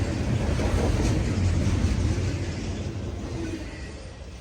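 Savannah and Atlanta-painted intermodal freight train rolling through a grade crossing in Greenville, a loud, rumbling low roar with faint clatter that slowly fades as the cars clear.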